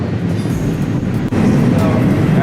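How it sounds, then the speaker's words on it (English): A long train rolls past on the rails close by, a steady, loud, continuous rumble with a brief dip midway. "Man, this train's long."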